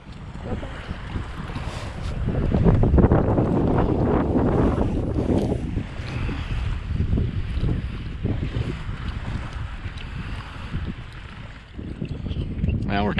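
Steady wind buffets the microphone while paddling across harbor water near Shem Creek against the tide, a continuous rushing roar that swells louder midway and persists throughout, with water wash beneath and occasional voices.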